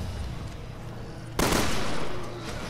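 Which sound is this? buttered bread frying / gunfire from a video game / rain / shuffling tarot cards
gunfire from a video game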